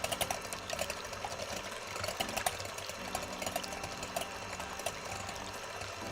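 An electric mixer whips egg whites at high speed in a kitchen, a continuous whirring buzz with clattering beater noise throughout, fairly close and alone.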